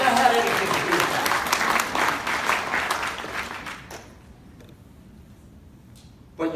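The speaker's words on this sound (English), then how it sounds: "Applause." Convention audience applauding in a large hall during a cycling talk, dense clapping for about four seconds that thins and fades to near silence, with a faint voice at the end.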